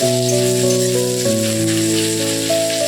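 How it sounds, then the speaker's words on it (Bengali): Chopped onions sizzle in hot oil while browning for a Bengali prawn curry, a steady crackling hiss running beneath sustained musical tones. "পেঁয়াজটা ভেজে নিই"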